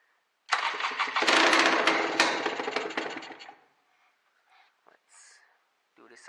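A Honda NSR 125 motorcycle that sat unused for two years cranks over with the choke on, a loud close rasping burst of engine noise lasting about three seconds before dying away, followed by faint handling sounds.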